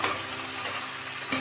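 Ash gourd shukto is stirred in a pan after salt goes in: a dense, close frying hiss with a few soft scrapes of the spoon over about a second and a half.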